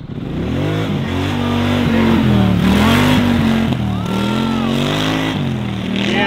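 A utility quad's engine revs hard during a wheelie attempt, a loud, close, sustained roar whose pitch rises and falls as the throttle is worked, with no talk over it.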